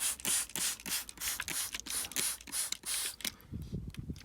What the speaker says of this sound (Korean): 그냥 스프레이로 이렇게 보여드리겠습니다